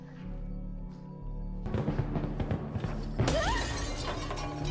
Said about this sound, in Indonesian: ia pun marah dan melempar lemari kaca yang berisi senapan